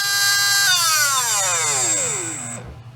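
A Trinity Slot Machine 17.5T brushless RC motor whines at about 24,000 RPM, a high steady electric scream that holds, then sweeps downward in pitch as it spins down and cuts off.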